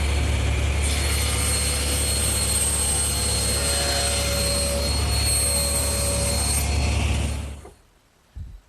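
A table saw rips a wooden panel for a Shaker woodbox along the rip fence, a loud steady roar with a high whine held for about seven seconds before it cuts off and winds down.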